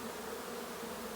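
A honey bee swarm waiting outside its hive gives off a brief, continuous droning hum of many bees, steady and fairly close.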